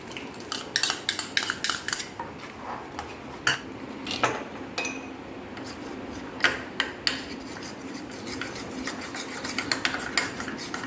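Powdered milk being stirred into a cup of water for homemade custard ice cream, a spoon scraping and clinking against the vessel in quick irregular bursts, close and fairly quiet.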